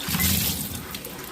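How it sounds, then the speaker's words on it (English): Water splashes and rinses through a 6-pound rock tumbler barrel and its stones, a brief close burst of running, sloshing water that fades after a fraction of a second. "And rinse the barrel and rinse the stones."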